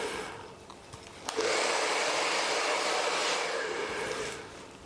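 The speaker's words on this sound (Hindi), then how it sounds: "तो अभी हम पहले सबसे पहले रूट पे करेंगे ड्रायर" A hair dryer switched up to full blast on the roots of curly hair, a loud, close, steady whooshing hum that rises sharply after a softer start and holds evenly to the end.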